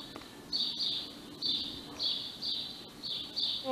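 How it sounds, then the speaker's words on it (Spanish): Small birds chirp in short bright bursts, about six calls repeating at a steady rhythm over faint background hiss, moderately near and clear with no talk. "Mirá cómo se escuchan los pajaritos."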